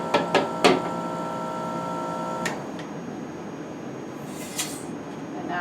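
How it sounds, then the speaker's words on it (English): Light taps of a filter funnel, knocking droplets off its sides: a few sharp clicks near the start, one more a little later, then a faint ringing tick over a quiet room hiss. "I generally tap the funnel around to try to get all the droplets off the side"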